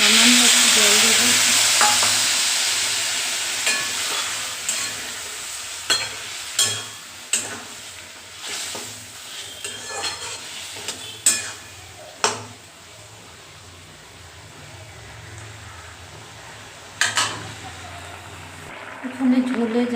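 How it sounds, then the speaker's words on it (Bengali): Chickpea curry bubbling in a pan with a loud sizzle at first, then a series of spatula scrapes and knocks against the pan at irregular intervals, with a voice talking through much of it. "এখানে ঝোলে জাল উঠে গেছে ভালো করে"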